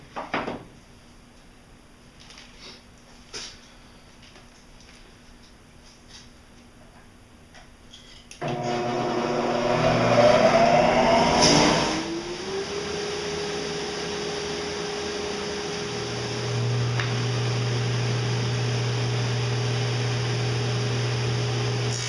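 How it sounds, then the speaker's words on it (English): A table saw cuts dados into wooden shelf boards using an auxiliary fence, the motor spinning up loudly partway through and running steadily close by, with a second pitch shift as the blade works the board. "So now all the dados are cut"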